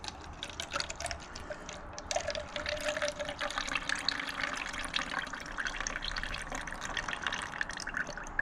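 Coolant drains and trickles from a 2ZZ engine being parted out for a swap, a steady close splashing pour with dripping that continues throughout.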